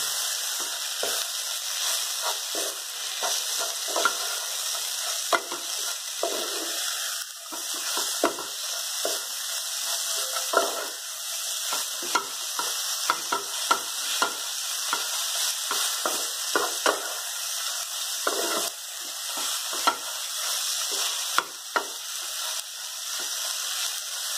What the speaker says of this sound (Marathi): दोन मिनिट भाजून घ्या